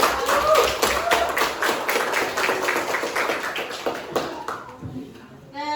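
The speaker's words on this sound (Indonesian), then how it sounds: "Kita kasih aplaus untuk" A school audience clapping in applause after a student presentation, a burst of many hands clapping together that gradually thins and fades out.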